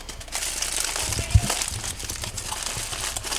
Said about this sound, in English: I'm going to come up over the top. Probably used a bit too much tin foil.